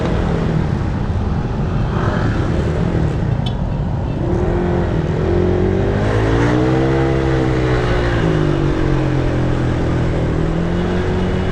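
Heavy road traffic of backed-up cars and motorcycles makes a dense, continuous engine roar with shifting revs and idling drones, loud and close throughout with no talking.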